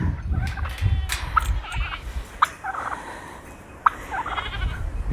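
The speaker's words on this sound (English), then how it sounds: "As you can hear, the turkeys are" Several turkeys gobble in scattered bursts at middling distance over a low outdoor rumble, with a few sharper calls standing out.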